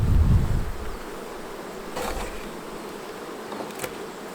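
Honey bees buzz steadily around open beehive frames heavy with honey during a hive inspection, a dense, close, continuous drone with a brief low thump at the start.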